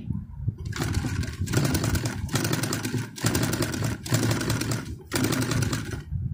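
Sewing machine stitching through fabric, running in repeated loud bursts of rapid mechanical whirring separated by short pauses while the stitch length is adjusted.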